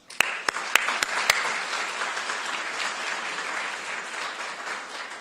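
An audience at a research event applauds a speaker walking onto the stage, a dense, steady roar of many hands clapping that follows a few sharp claps at the start and carries on throughout.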